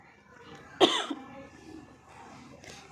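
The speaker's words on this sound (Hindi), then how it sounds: "सॉरी गैस, खांसी आ गई थी" A woman gives a single sharp cough followed by a brief throat-clearing rasp, close and fairly loud against a quiet indoor room, then faint background murmur.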